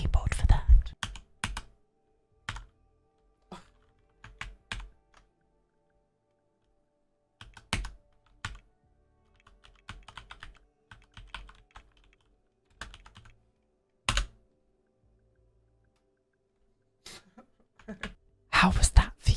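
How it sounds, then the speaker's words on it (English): Someone types on a computer keyboard with the microphone held close, entering video game cheats in a spa-building game: sporadic clusters of crisp, near key clicks separated by quiet gaps, with a faint whisper-like sound in between. "I might actually put my mic to my keyboard for that."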